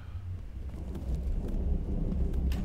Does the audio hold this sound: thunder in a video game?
yes